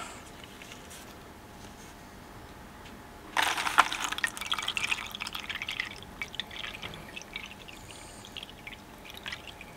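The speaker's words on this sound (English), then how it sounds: "this is watching ferric chloride filter through a coffee filter" Ferric chloride filtering through a coffee filter in a beaker funnel, a quiet background that gives way to a sudden burst of trickling and dripping liquid, which continues unevenly for several seconds.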